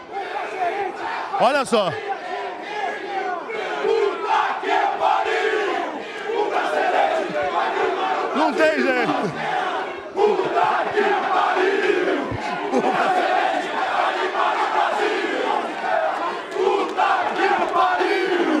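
A large crowd of Brazilian fans at a theatre entrance cheer and chant loudly and without a break, with whistles and shouted voices rising above the roar, and a person nearby talks briefly over the din.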